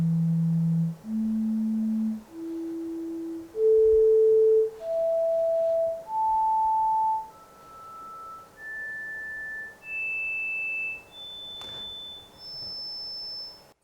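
Equal-loudness-compensated sine test tones play as a stepped sequence of about eleven steady beeps, each roughly a second long with short gaps, rising in pitch from low to very high.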